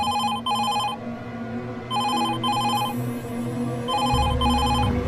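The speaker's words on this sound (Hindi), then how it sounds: "उनके घर के फोन की घंटी बजी।" A home telephone bell rings in repeated bursts of rapid trilling, with short pauses between rings, over a steady low background hum.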